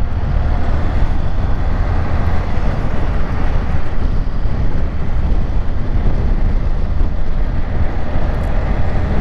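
A Honda CG 160 Fan motorcycle engine runs steadily in traffic with strong low rumble and wind buffeting the microphone, continuous and fairly loud throughout.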